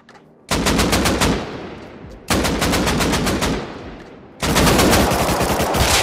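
Rapid automatic gunfire rings out in the console survival game Rust, three long bursts separated by short pauses, loud and close with no talking.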